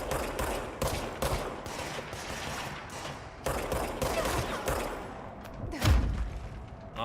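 Gunfire in the video game Control comes as rapid bursts of shots and heavy thuds through the whole stretch, dense and close, with a booming impact near the end.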